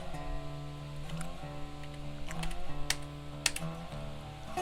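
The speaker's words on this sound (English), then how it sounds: "Slam down on the keyboard, apparently." Computer keyboard keys slammed during play of the train game Railroads Online, a handful of sharp clicks scattered over steady in-game music, no talking.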